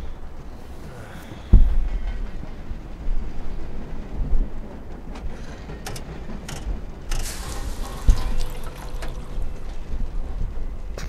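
Rumbling train ride in the video game Wolfenstein: The New Order, a steady low rolling drone with occasional thumps and gusty rattling bursts, no speech.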